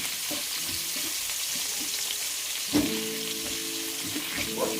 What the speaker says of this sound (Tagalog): Bawang, sibuyas, yan. Isote lang natin.